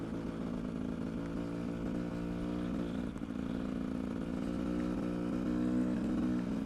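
A dirt bike engine runs steadily while being ridden, a loud, close droning hum with a strong buzzy tone that holds level throughout, with only a brief dip in the middle.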